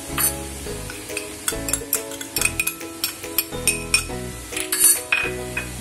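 A spoon mixes cashew pieces, raisins and fresh grated coconut in a metal bowl as a Kadbu filling, making a rapid run of light clinks and scrapes close by over faint tonal background music.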